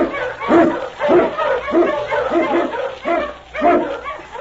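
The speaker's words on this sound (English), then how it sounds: "King, the swiftest, strongest of Eskimo lead dogs, blazes the trail through storm and snow for Sergeant Preston" Eskimo husky sled dogs on a snowy Yukon trail let out a series of close, excited barks and yips in quick bursts, roughly one every half second.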